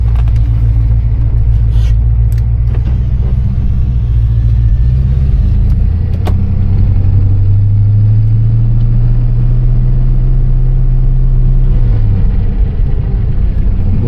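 The 5.0 V8 of a 1987 Ford Mustang drones loudly and steadily while the car drives in cold weather, the pitch easing through a gear change near twelve seconds, with no voices.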